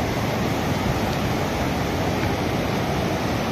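A swollen river in Uttarakhand rushing during heavy rain, heard as a loud, steady broadband roar of turbulent water with no breaks, close to the bank and with no voices over it.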